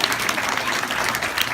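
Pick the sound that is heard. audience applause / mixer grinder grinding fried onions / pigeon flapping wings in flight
audience applause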